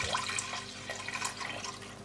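Red wine poured from a freshly opened bottle into a deep pot, a close, faint, continuous liquid splashing and gurgling with small dripping accents.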